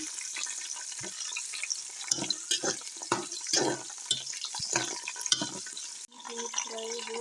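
Washed raisins frying in ghee in a pan, a continuous close sizzle broken by scraping stirs and clattering spoon strokes, with a louder hiss near the end.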